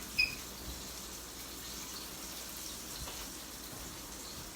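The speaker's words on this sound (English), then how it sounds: "Just add some water because I want my batter to be where I can pour it." Water pours into waffle batter for a Southern breakfast, a faint, steady watery hiss running evenly through the whole stretch with no talk.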